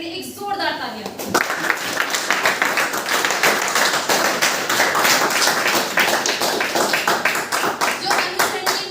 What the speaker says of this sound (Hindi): तो हो जाए किरण सर के लिए एक जोरदार तालियां